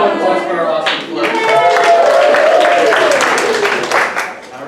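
An audience at a live show claps for a float, steady loud applause mixed with cheering and overlapping voices, dipping briefly near the end.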